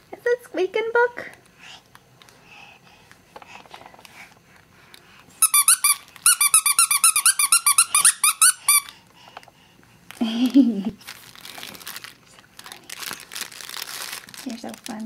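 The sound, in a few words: squeaky toy squeaking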